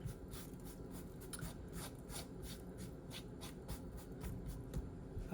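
Seasoning being rubbed off the skin of a raw pork belly, a steady close scratchy rubbing with soft repeated strokes, heard alone without talk.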